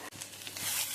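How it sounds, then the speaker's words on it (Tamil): Chicken pieces with onion and green chillies sizzle briefly in a frying pan while being sautéed for a Salem-style pichi pota chicken curry, close and steady, with a light stirring scrape. "இது பச்சை வாசனை போகிற வரைக்கும் வதக்கிக்கோங்க."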